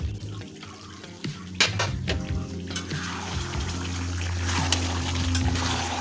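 Mutton stir-fries in a pan on a home stove, a sustained close sizzle punctuated by clinks and scrapes of a spoon against the metal pan.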